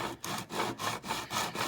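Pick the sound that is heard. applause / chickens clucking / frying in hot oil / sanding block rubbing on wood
sanding block rubbing on wood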